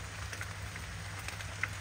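Steady light rain patters in a damp southern Illinois forest, a soft continuous hiss with scattered faint drips, quiet and even, with no voices.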